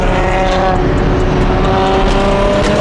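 A single-turbo car engine with an equal-length setup revs hard up close, its loud roar climbing in pitch throughout with no talking.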